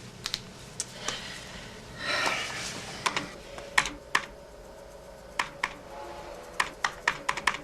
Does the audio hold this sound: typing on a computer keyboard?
yes